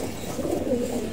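Pigeons coo softly and close by during an annual vaccination in bright sun, a short low murmuring call.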